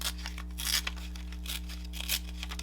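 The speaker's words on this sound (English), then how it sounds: "I'm going to rip just some little teeny hills and valleys in the sticky part of this post-it note" A paper post-it note is torn by hand in a few short, crisp rips with brief pauses between them, close and fairly quiet over a steady low hum.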